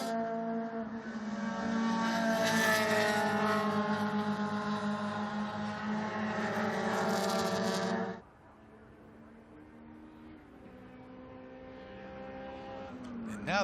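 A Lotus race car in the Super Touring class at the SCCA Runoffs, its engine misfiring, drones loudly and steadily as it passes before dropping abruptly to a fainter, distant engine hum for the rest of the stretch.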